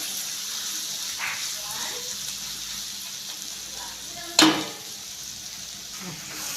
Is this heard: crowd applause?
no